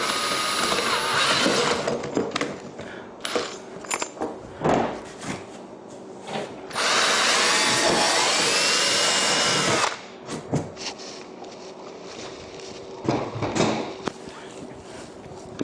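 Power drill running in long bursts, boring holes for a set of socket-head cap screws on an STK 5500B part, broken by shorter whirs and clunks of handling in between.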